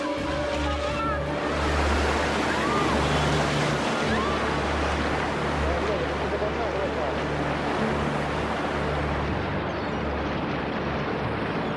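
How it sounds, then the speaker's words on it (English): Powerful tsunami waves surging onto a coastline after a terrible earthquake, a continuous loud roar of rushing, churning water with a deep rumbling undertone and no break in the noise. "It's not just one wave, it's a series of waves that will continue to come for many hours"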